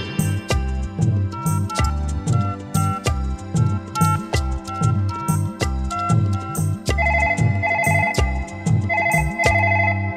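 A telephone rings on an outgoing call placed to Delhi, a repeating electronic tone pattern sounding loud over a rhythmic Bhojpuri folk music backing with steady drum beats.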